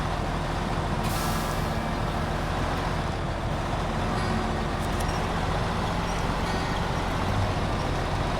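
A heavy truck hauling a massive trailer in a driving video game downshifts, its engine a loud, steady low rumble with a brief hissing burst near the start.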